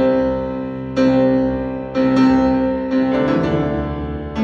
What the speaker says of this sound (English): You will hear the piano playing